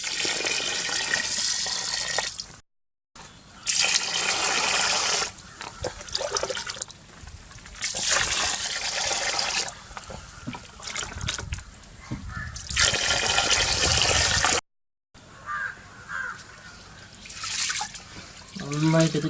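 Basmati rice being washed in a bowl of water for kuzhimanthi: sustained sloshing, swishing and trickling, close and fairly loud in uneven waves with two brief pauses, while someone talks throughout.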